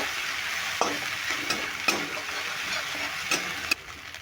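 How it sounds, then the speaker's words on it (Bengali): Spice masala of turmeric, cumin and coriander powder fries in a pan with steady sizzling, broken by several sharp scrapes and taps of a spoon stirring it. "এবার মশলাটাকে আমি একটু ভালো করে একটু কষিয়ে নেব"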